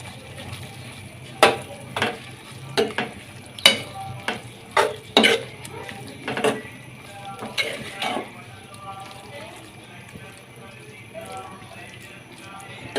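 Onions are mixed into ridge gourd frying in a pan, with a series of sharp close clanks and scrapes from stirring over a low continuous sizzle. Spoken voice is faintly present.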